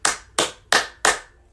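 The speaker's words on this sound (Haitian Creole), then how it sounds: "Bat bravo pour la jeunesse." Four crisp hand claps in an even, steady rhythm, each sharp and close, with short silent gaps between them.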